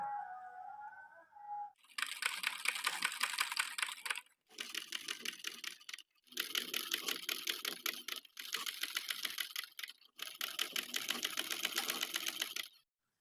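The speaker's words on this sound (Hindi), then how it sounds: "बिल्कुल इस डिज़ाइन के साथ साथ मैं सिलाई लगाती जाऊंगी" A sewing machine runs a zigzag stitch on fabric for a shrug or long jacket, sounding in five close, loud bursts of fast rattling stitching with short pauses between, after a brief moment of other sound at the start.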